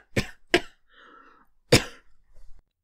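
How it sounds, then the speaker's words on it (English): A man coughs sharply three times, close and loud, with a brief rough vocal sound between the coughs and a faint throaty noise at the end. "He coughs. You are coughing."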